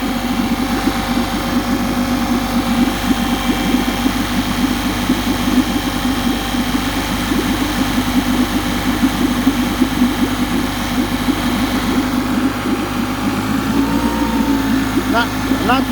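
New 2020 Tohatsu 9.8hp outboard motor running steadily during break-in, a loud continuous close-up drone with a constant throbbing buzz throughout.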